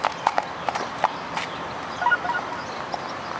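Hooves of a quiet, roughly fifteen-hand horse in its late teens moving through walk, trot and canter, giving sharp clip-clop strikes in uneven bursts, moderately close, with faint birdsong in the background.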